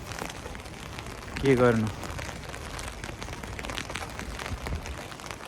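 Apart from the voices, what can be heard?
heavy rain falling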